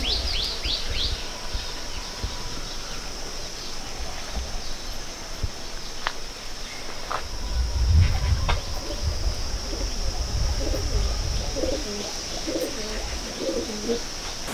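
Pigeons in a loft at Falta, South 24 Parganas, coo softly and repeatedly alongside scattered chirps, a close, continuous backdrop with a faint high hum.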